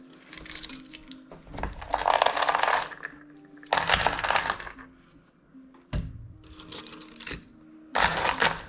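Dice tumble and rattle against the hard sides of a small trinket box in four or five loud clattering bursts, each lasting about a second, with short quiet pauses between them and no talking.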